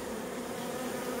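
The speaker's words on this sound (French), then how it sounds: "qu'il y ait un essaim comme ça qui rentre dans une ruche qu'on a laissée" Honeybee swarm buzzing around a hive, a dense continuous hum of many wings, steady and fairly close, with no voices.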